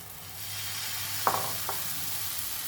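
Dhirde batter poured onto a hot, lightly oiled pan, a steady broadband sizzle that runs throughout at close range, with a couple of faint utensil clicks and no talking.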